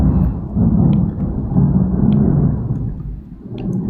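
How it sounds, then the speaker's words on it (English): Heavy rain with thunder outside, a loud, continuous low rumble that swells and rolls steadily throughout with no voices. "But obviously if it's raining like this,"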